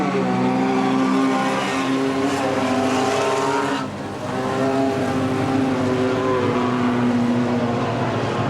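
Several race cars roar together at the start of a heat race at Cottage Grove Speedway, a loud, sustained engine drone with harmonic layers that briefly dips and then swells again as the pack accelerates.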